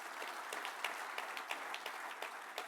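Audience applause at a modular construction summit, a moderate, even patter of clapping from a room of people with a few sharper individual claps standing out, heard at some distance.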